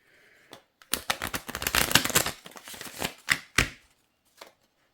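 Tarot cards being shuffled by hand: a quick run of crisp riffling and slapping card sounds, fairly close and clear, with no talking over it.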